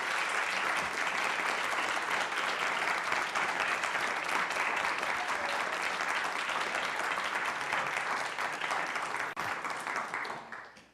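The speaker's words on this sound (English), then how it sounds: "If you can join me in a round of applause for each member of our panel" Steady applause from a conference audience for a panel, sustained dense clapping for about ten seconds before trailing off at the end.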